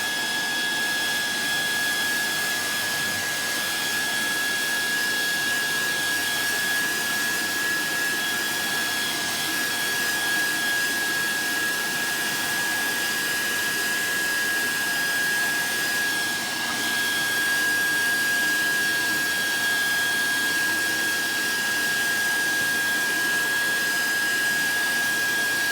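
A heat tool blows steadily on a Brusho-painted card, a constant whooshing roar with a thin high whine running unbroken and fairly loud throughout, with no talk.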